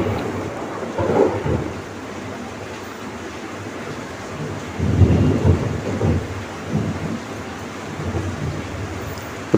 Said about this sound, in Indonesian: Petir gede banget